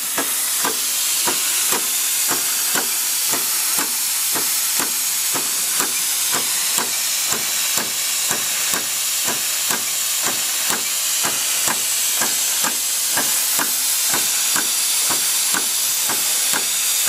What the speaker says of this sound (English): Increasing at work, the steam pump works.